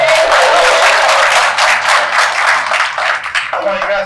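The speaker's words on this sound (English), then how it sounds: "You can clap hands" Audience applause breaks out at a township trustee meeting's award presentation, a dense, steady patter of many hands clapping for several seconds before thinning out near the end, with voices mixed underneath.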